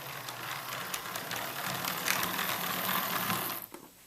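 A small motor whirs with a rapid mechanical clicking as an HO scale Burlington Northern SD24 model locomotive runs, steady and close, fading out at the end.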